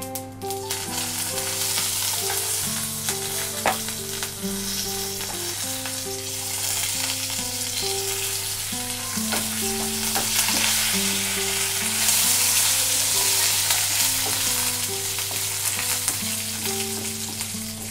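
Mustard seeds, curry leaves and chillies frying in hot oil for a Telugu raw-banana chutney, a steady crackling sizzle with popping and a sustained low hum under a background melody, continuous and fairly loud with no talking.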